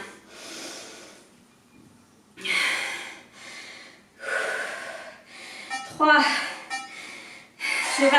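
Heavy, forceful breathing during a cardio workout, a series of loud rhythmic exhales and gasping breaths in bursts separated by short pauses, heard up close.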